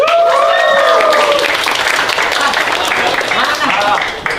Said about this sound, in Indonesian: Boleh kita sambut dan tepuk tangan yang paling meriah untuk Mr. YB.